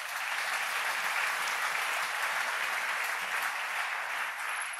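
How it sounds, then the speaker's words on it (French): A church congregation applauding during a worship service, with dense, steady clapping from many hands that stays even throughout and has no talk over it. "acclamons le Seigneur"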